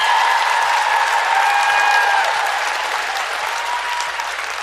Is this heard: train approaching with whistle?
no